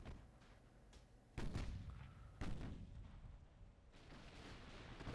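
Warship main guns firing shells in Ultimate Admiral: Dreadnoughts, with two heavy booming blasts about a second apart over a low rumbling background of distant battle noise.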